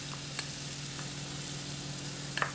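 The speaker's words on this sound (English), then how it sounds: "Now we're gonna add our garlic paste in." Garlic paste sizzling in a pan with shallots, a close, steady frying crackle with a low hum underneath and a few light utensil taps.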